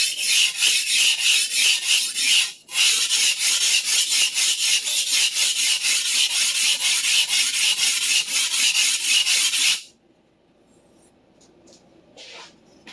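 A Clyde Cutlery chef knife is ground into a large bevel on a sharpener, producing a loud, rhythmic rasping scrape in quick repeated strokes with one brief pause, then stopping abruptly, followed by near silence.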